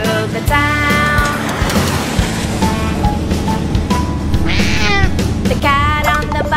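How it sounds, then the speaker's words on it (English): A cat's meow in a children's nursery rhyme song, sung as a string of bright, repeated meows over a bouncy musical backing. "The cat on the bus says meow, meow, meow, all through the town."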